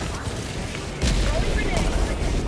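Orbital strike in the game Helldivers 2 lands with a loud booming rumble that swells midway and holds, set within a dense, noisy battle soundscape with voices faintly present.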